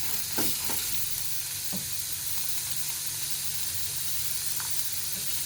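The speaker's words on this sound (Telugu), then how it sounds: "ఒక 5-6 వెల్లుల్లి రబ్బలు చితక్కొట్టి వేస్తున్నానండి." Crushed garlic cloves fry in oil in a pan, giving a steady low sizzle with a few faint stirring scrapes, close by and without talk.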